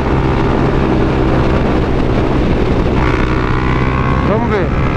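A Honda CB 300F Twister motorcycle engine with a Jet Motos exhaust, running on ethanol, roars loudly and steadily with heavy wind buffeting the microphone, and the pitch swells briefly near the end.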